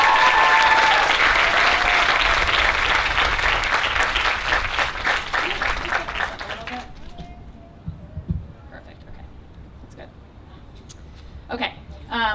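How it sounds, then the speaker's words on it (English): Audience applause at a physician assistant program's white coat ceremony, loud sustained clapping that fades out after about seven seconds, leaving scattered sounds and brief talk. "So just another round of applause for this amazing leader."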